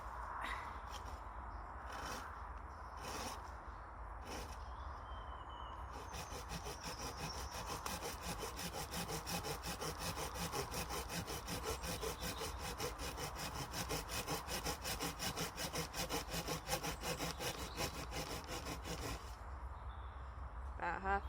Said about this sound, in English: so that my wood can lay flat as I'm sawing it